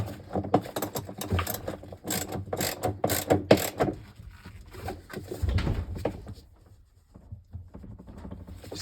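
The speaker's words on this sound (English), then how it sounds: "just using my ratchet here" A hand ratchet tightening a bolt on a Whirlpool Cabrio top-load washer, close and quick clicking in bursts that fade into quiet near the end.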